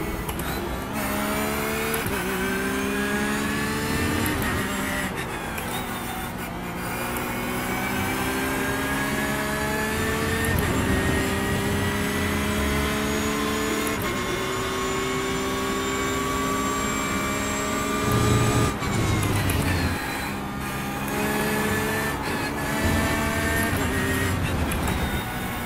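A Porsche 911 GT3 race car engine at the Red Bull Ring in iRacing, steadily loud with rising and falling harmonic whine through repeated upshifts and revving across the lap, no talk.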